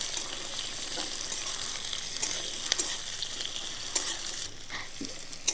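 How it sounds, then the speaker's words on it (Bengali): Chopped onions and whole garlic cloves fry lightly in oil with a continuous close hiss and sizzle, with a few soft spatula clicks and scrapes against the pan. "এই পেঁয়াজটা কিন্তু আমি হালকা করে ভেজে নেব"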